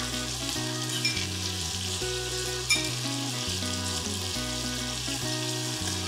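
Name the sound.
onion with salt frying in oil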